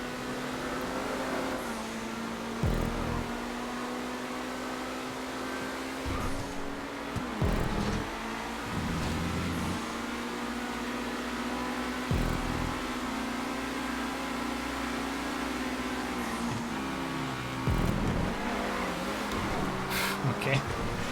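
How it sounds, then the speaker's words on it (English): Race cars in GTA 5 drive and rev around a track, with a steady engine drone and repeated rises in pitch as they accelerate. People talk over the engines throughout. "Cars everywhere."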